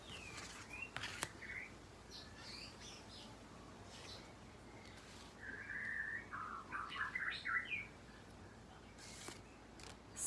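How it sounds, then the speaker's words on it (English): Faint birds chirp in the distance, scattered tweets early on, then a busier run of quick trills against a quiet outdoor hush. "the birds are chirping"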